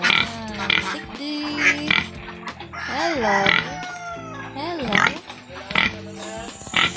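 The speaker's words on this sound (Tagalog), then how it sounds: "So, ayan yung baboy ni tatay." A pig on a small family farm grunts and squeals among loudly clucking chickens and a crowing rooster, with someone speaking nearby.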